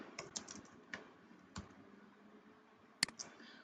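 Keys clicking on a computer keyboard as a prompt is entered, a handful of sparse, crisp taps with pauses between them, close and quiet, no voices.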